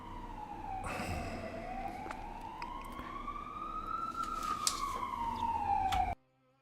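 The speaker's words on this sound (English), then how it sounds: "I was in time to mute before that siren got too loud." In the truck game SnowRunner, a wailing emergency siren sweeps slowly up and down over truck engine noise, fairly loud and steady, then cuts off abruptly.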